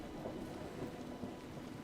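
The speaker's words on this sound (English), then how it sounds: "Well, it's raining, and neither of us have umbrellas." Steady rain with a low thunder rumble in the Dragon Age: Inquisition video game, a soft continuous wash of falling water with no talking.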